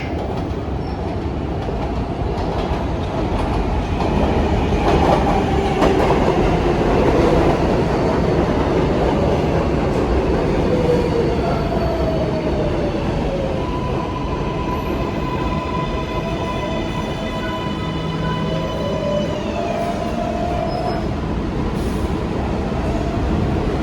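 A New York City Subway 7 train bound for Mets-Willets Point runs with a steady, loud rumble, clickety-clack wheel noise and rising metallic squeals from the wheels on the rails, with no talking.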